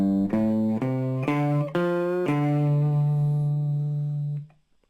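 The opening riff of a song picked on guitar, a run of single notes stepping along before settling on a long sustained low note that rings out, then stops; played solo and up close.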